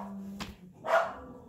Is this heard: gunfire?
no